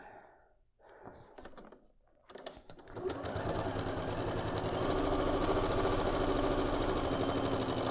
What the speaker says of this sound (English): And let's get this one sewn.